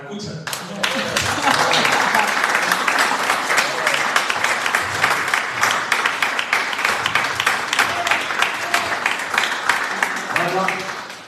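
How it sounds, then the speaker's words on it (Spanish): A crowd at a celebration of International Flamenco Day in Lorca bursts into loud, sustained applause, a dense roar of clapping that lasts about ten seconds, with voices heard faintly underneath. "pido al público un aplauso para Iván, el de la escucha."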